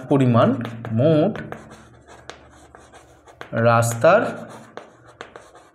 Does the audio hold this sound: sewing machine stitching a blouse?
no